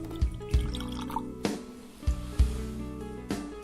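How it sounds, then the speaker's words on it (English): Starward bourbon cask Australian whisky is poured from the bottle into a glass, giving close, hollow glugging gulps in an uneven rhythm alongside liquid splashing, with no talking. "the glug glug glug of the first pour"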